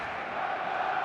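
Stadium crowd in the eFootball 22 video game, a steady, loud wash of massed voices and cheering before the players walk out, continuous with no clear talk over it.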